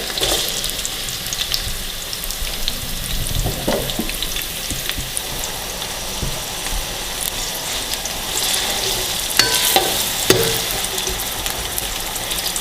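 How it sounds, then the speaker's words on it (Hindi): Chopped onions sizzle and fry steadily in hot oil in a pot on a stove, a continuous crackling hiss with a few louder spits and clinks, with no talking. "ऑयल डालेंगे तकरीबन 1 बाउल। प्याज डालेंगे हम इसके अंदर"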